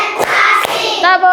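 Two sharp hand claps in a classroom rhythmic focus-clapping routine, loud and close, with children's voices running underneath.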